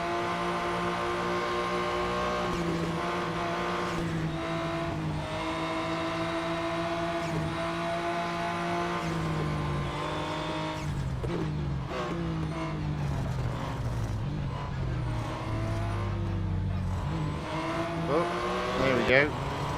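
A Porsche 911 GT1 Strassenversion race car's engine in a racing video game, a continuous high, buzzing whine that rises and falls with gear changes over about twenty seconds, with someone talking over it.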